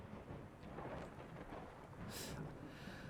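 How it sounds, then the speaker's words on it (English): Rain and rolling thunder from a thunderstorm in the video game The Universim, a quiet, steady patter under a low rumble with a brief hissing burst midway, no voices. "got a thunderstorm coming in"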